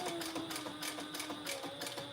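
A sewing machine stitching fabric scraps together, running with a fast, steady mechanical whir and rhythmic needle pulses, close and continuous without talk.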